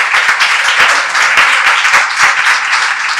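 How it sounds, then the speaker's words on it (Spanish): Audience applause at a women's church gathering, dense sustained clapping from many hands throughout, loud and close without pause. "un fuerte aplauso para ella"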